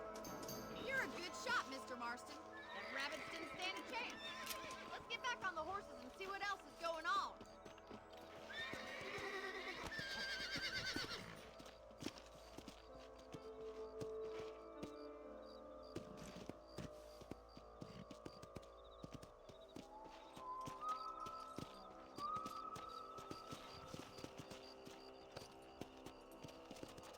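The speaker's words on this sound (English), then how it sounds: "Let's get back on the horses" Horses in the Red Dead Redemption video game whinny and their hooves clip-clop along, with speech and a low hum running through the scene and louder bursts of activity early on.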